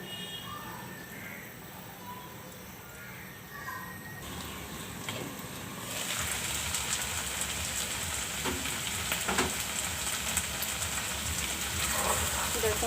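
Okra frying in a pan with small local shrimp, a steady sizzle and crackle that grows louder partway through and continues evenly to the end, with faint background noise.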